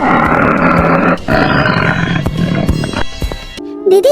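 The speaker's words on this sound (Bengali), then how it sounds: "দিদি, বন থেকে কেমন একটা চাপা গর্জন শোনা যাচ্ছে। মনে হচ্ছে বাঘটা খুব কাছে চলে এসেছে।" A cartoon tiger roars in a forest, a loud, close, drawn-out growling roar lasting several seconds before breaking off, followed by a brief musical tone.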